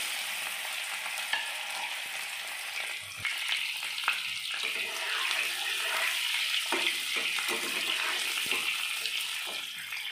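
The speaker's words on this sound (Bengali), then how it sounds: "এবার আলুগুলো একটু ভেজে নেব।" Small potatoes frying in oil for egg curry, a continuous close hiss and sizzle with occasional stirring clatter, no voices.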